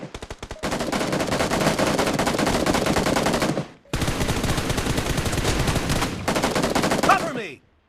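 Automatic gunfire in the video game BGMI during a team deathmatch, with long sustained rapid-fire bursts close and loud, a brief gap, then more bursts ending in a final shot.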